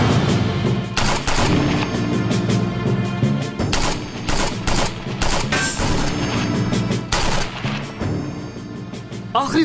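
Gunfire in a Turkish drama scene: rapid bursts of automatic shots and loud cracks repeat throughout, dense and close, with faint voices underneath.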